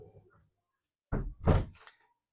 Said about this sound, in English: Close that door for me.